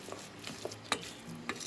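Ingredients for pumpkin soup sautéing in a pan, a soft steady sizzle with occasional light clicks and scrapes of a utensil stirring, quiet and close.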